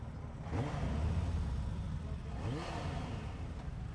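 A car engine revving on a motorway, heard from inside a passing car as two rising surges in pitch over a steady road rumble.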